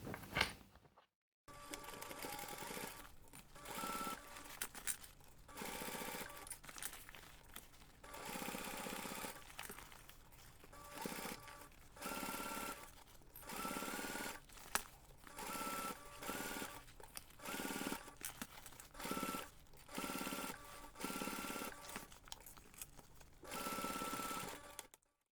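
A sewing machine bastes two laptop bag gusset pieces together, running in repeated short bursts of steady stitching with brief pauses between runs. The sound is quiet and close, with no voices.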